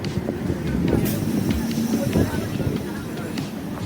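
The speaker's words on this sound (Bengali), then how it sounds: "ট্রেন মনে হয় ঢুকছে" A train pulls into a railway station platform with a steady rumbling roar and hiss of wheels and carriages, loud and continuous throughout with platform bustle.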